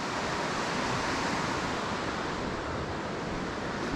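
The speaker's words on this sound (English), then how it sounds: "On the river coming towards us here, that's where the 6 famous Ohiopyle rapids are." River rapids rushing through the Ohiopyle gorge, heard from the Great Gorge Trail as a steady, dense roar of whitewater with no voices.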